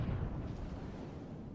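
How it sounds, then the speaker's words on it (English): Huge missile launch in the From the Depths naval combat game, a deep rumbling roar that surges at the start and then holds as a steady, heavy low-frequency rush for the rest of the moment. "I did launch the huge missile again"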